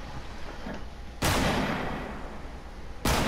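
Heavy sniper rifle shots in a video game, two sharp loud blasts about two seconds apart, each with a long echoing decay over a low rumbling background.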